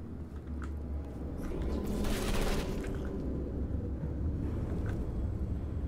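Turrets in the video game Portal 2 open fire on the player, a dense rattling burst of rapid gunfire that swells in the middle over a low steady rumble, loud and close throughout.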